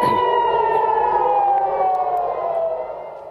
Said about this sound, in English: triggering several sirens across the country